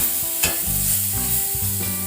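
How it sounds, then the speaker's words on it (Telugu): Spice masala with coriander and cumin powder fries in oil for a cabbage kofta curry, stirred continuously with close scraping and a steady sizzle and no talking. "ఆయిల్ రిలీజ్ అయ్యేంత వరకు ఫ్రై చేసుకోండి."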